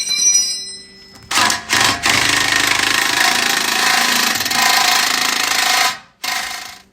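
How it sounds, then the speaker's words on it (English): An impact gun rattles in loud hammering bursts while driving out a tie rod bolt on a 2007 Mustang: a short burst, two brief stutters, then a sustained clattering run, a pause, and one final short burst. "And now we are going to impact gun this bolt out."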